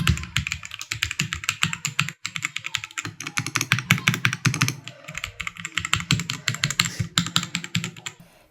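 Typing on a Vortex Mono Series mechanical keyboard: a steady, close run of quick keystroke clacks with a soft, cushioned thock, continuing for several seconds with only a brief pause, no talking over it.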